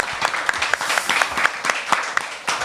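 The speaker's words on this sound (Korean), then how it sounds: "다시 한번 박수 부탁드립니다." Audience applause at a book concert for a collection of anti-Japanese resistance songs: steady, dense clapping from a room full of people, with a few louder individual claps standing out throughout.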